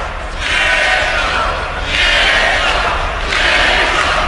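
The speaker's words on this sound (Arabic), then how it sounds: "بعض الجماهير البوسنية حاضرة في مباراة اليوم وتردد اسم إيدين جيكو" Bosnian football fans chanting Edin Dzeko's name in a stadium during a Manchester City friendly, three loud rhythmic crowd chant waves over a constant stadium roar.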